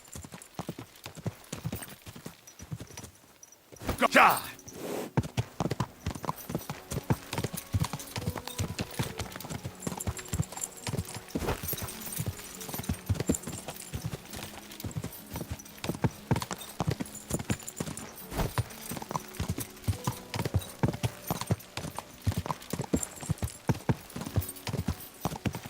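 Steady clip-clopping of horse hooves in a quick rhythm in the video game Kingdom Come: Deliverance II, joined by a short whinny and scattered game sounds, with a brief shout early on.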